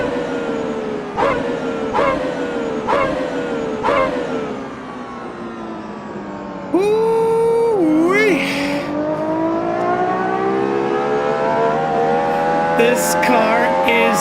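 A car engine revs hard at high speed, shifting up through several gears in quick rising sweeps, then settles into a loud, steady climbing drone with a whine on top, close and dominant.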